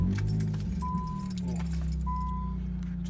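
Keys jingle as a 2002 Nissan Sentra is started, then the engine settles into a low, steady idle close by, with two brief electronic tones chiming over it.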